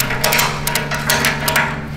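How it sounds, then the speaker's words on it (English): A hammer taps repeatedly in quick, light strikes on a metal cook chamber door, about a dozen sharp knocks over a low background hum. "I'm gonna get my fine adjustment hammer so I can tap tap"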